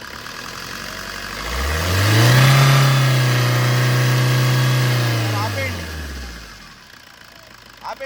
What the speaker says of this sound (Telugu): సార్ కొంచెం ఎక్సలేటర్ కదా